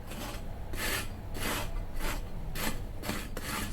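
A blunt garden hoe scrapes across soil in a garden bed, giving about seven rhythmic rasping strokes in steady succession, close and moderately loud, with no talking.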